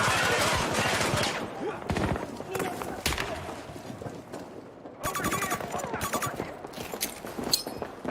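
Rapid bursts of machine gun turret fire ring out in a video game firefight, dense crackling volleys dominating the mix with a loud stretch in the second half, while players talk over the shooting.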